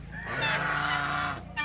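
Geese honk loudly in their farm pen, a close, sustained burst of raspy honking with a fresh call starting right at the end.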